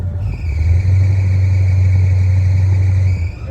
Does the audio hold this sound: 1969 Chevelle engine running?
yes